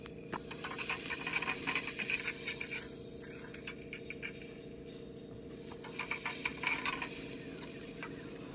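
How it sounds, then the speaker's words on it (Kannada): Fennel, poppy seeds, cinnamon, cloves and tomato fry in a pan with a soft, continuous sizzle while a utensil scrapes and stirs at intervals, fairly quiet and close. "ಈಗ ಸೋಂಪು, ಗಸಗಸೆ, ಚಕ್ಕೆ, ಲವಂಗ ಇದಿಷ್ಟು ಹಾಕ್ಕೊಂಡು ಮತ್ತು ಟೊಮೆಟೊ ಹಾಕ್ಕೊಂಡು ಫ್ರೈ ಮಾಡ್ಕೊತಾ ಇದ್ದೀನಿ."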